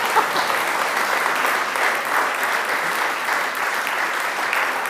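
A festival audience breaks into sustained, vigorous clapping after a card trick, a thick crowd roar of hands that stays level throughout with nobody speaking over it.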